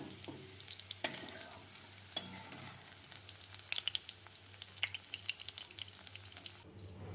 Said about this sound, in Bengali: আলুগুলো বেশ অনেকটা সিদ্ধ হয়ে গেছে আর ভালো করে লাল লাল করে ভাজাও হয়ে গেছে